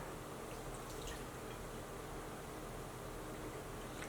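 Liquid smoke, tamari and maple syrup being poured into a dish, a faint steady trickle and drip under a hissy background.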